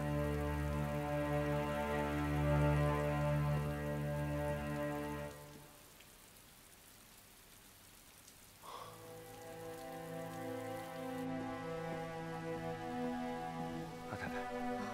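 Steady rain falls in a Chinese period drama, a soft continuous patter under a sustained musical score that fades in the middle and then returns.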